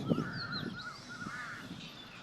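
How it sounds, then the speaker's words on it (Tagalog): Crows cawing among the trees of Lumpini Park in Bangkok, several harsh calls overlapping at middle distance over a steady outdoor background, with no voices. "Daming uwak. Daming crow."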